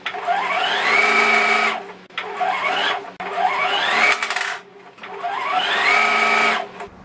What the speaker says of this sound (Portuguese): Agora aqui para fazer o rabinho, vou juntar esses dois tecido aqui e passar uma costura.